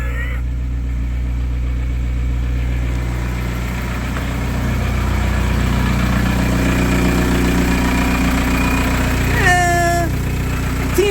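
An engine idles steadily and loud just after starting up once its battery is reconnected, a continuous low rumbling hum, with a brief high squeal or chirp near the end.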